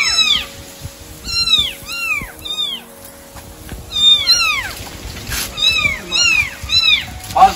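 A small kitten meows loudly and repeatedly in quick, urgent bursts up close while drinking milk, with a brief pause midway and steady background noise, and no talk heard.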